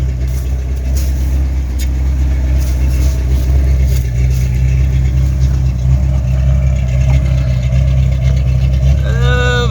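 A 1983 Ford Mustang Fox body engine running with a new carburetor, a loud, close, steady low rumble that holds at a constant idle-like pitch for the whole stretch, with no clear rise in revs.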